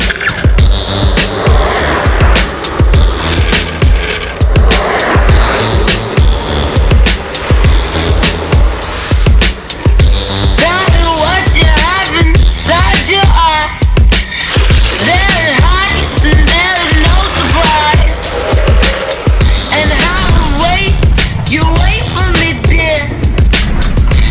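Longboard wheels sliding on a rough road, repeated rolling rumbles and smooth scraping slides close up, with a voice talking over parts of it.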